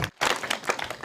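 An audience in Machakos bursts into applause for the county government, a short dense patter of many hands clapping, close and lively, with faint voices mixed in.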